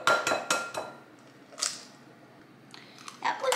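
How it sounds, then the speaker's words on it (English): An egg being cracked into a mixing bowl while making gingerbread cookies: a quick series of sharp taps on the bowl rim, a lone crack, then a few more clinks, close and crisp in a quiet kitchen. "we're gonna crack it"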